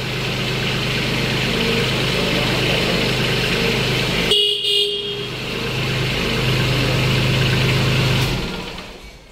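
A Kubota tractor engine runs steadily at idle with a loud, low mechanical drone, briefly broken midway by a sharp horn-like toot before the engine sound resumes and fades near the end.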